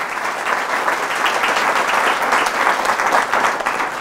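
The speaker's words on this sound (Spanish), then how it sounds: "Fuertes aplausos" Loud, sustained applause from a church congregation, a dense wash of clapping that holds steady for several seconds with no break.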